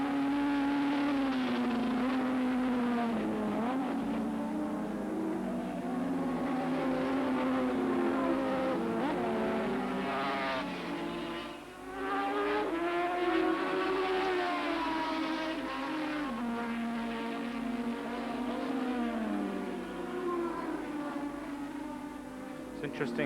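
Race cars overtaking at Oran Park racetrack in a 1982 Swann Series round: engines drone and rise and fall in pitch as the cars pass, with a commentator talking over them.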